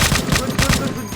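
Rapid bursts of gunfire ring out in a mobile GTA-style crime game while police arrive, a quick loud rhythmic volley of shots.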